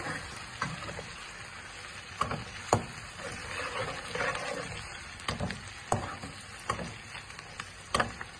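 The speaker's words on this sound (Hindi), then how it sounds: "मैं इसको इतना भूनूंगा कि अदरक लहसुन का जो कच्चापन है वो दूर हो जाए" Ginger garlic paste fries with onions in a pan for a Pakistani dal mash chana tadka, giving a soft, steady sizzle broken by scattered clicks and scrapes of stirring. It is fairly quiet and there is no talking.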